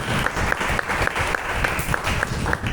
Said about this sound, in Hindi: कितने लोग विश्वास करते वो तालियों के साथ उसको बजाते हैं।